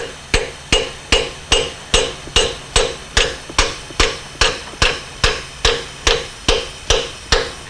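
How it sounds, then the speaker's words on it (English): A hammer drives a new injector cup into the head of a 7.3 Powerstroke diesel with a steel tool, striking about twice a second in an even run of roughly fifteen sharp, ringing metallic blows, close and loud with no talking. "So we start driving it in until we hear the tone change."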